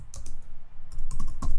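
Keys clatter on a computer keyboard in short irregular bursts, close and fairly crisp, with a brief pause midway and no voice.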